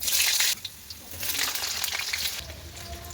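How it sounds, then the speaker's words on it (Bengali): A loud burst of sizzling as potatoes hit hot oil in a wok, settling into a steady crackling fry with faint stirring. "আলুগুলো দিয়ে দিই কড়াইতে"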